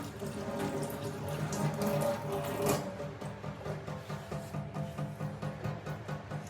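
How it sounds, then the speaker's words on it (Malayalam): Water drains from cooked macaroni at a kitchen sink, making a steady close splashing rush with a fluctuating, gurgling texture. No one speaks. "വെള്ളം ഊറ്റിയെടുക്കാം."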